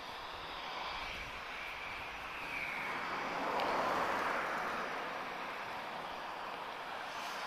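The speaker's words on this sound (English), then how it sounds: "I hear the ground shake from 2 Rolls-Royce Trent 7000s." A distant aircraft with two Rolls-Royce Trent 7000 engines rumbles and roars steadily at an airport in Lisbon, a broad low engine wash that swells gently toward the middle and then eases, with no talk.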